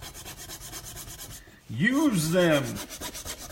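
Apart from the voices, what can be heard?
hand sanding a wooden model with file or sandpaper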